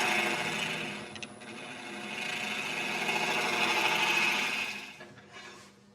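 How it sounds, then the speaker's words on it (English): A round nose carbide tool dusting the bottom of a wooden bowl on a wood lathe, a steady close whirring scrape that rises and holds, then tapers off near the end. "Just use my round nose carbide just to dust the bottom off."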